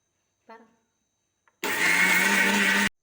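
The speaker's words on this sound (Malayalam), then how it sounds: "ഇപ്പോൾ നമ്മൾ മുട്ടയും പഞ്ചസാരയും ഏലക്കയും കൂടെയൊക്കെ മിക്സിയിൽ അടിച്ചെടുത്തിട്ടുണ്ട്" A kitchen mixer grinder whirs loudly for just over a second as it blends eggs, sugar and cardamom for cake batter, stopping abruptly; a short voice comes before it.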